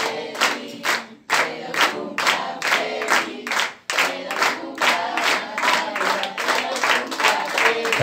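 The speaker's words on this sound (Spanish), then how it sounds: "Así que fuertes los aplausos para Nati." Guests at a fifteenth birthday party clapping in a loud, rhythmic burst of applause with shouts mixed in, the claps pulsing in steady beats close by.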